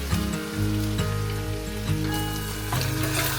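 Steady, loud sizzling and crackling of rice frying in a hot pan, continuous throughout with no voices.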